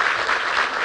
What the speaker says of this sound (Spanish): un aplauso merece Rodolfo, abogado de la Misión Sucre.